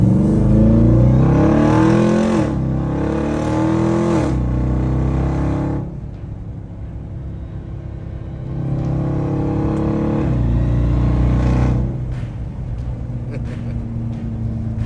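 A loud supercharged Ram TRX truck engine with an aftermarket intake revs in long surges, dropping to a rough idle between pulls, with a deep rumbling exhaust throughout.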